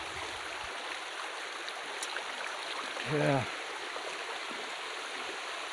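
A jungle river stream flows with a steady, even rush of water throughout, with one brief low vocal sound partway through.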